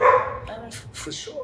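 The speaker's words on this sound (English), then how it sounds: "That's my dog" A dog gives a couple of short barks just after a brief bit of indoor speech, sharp and fairly close in a quiet room.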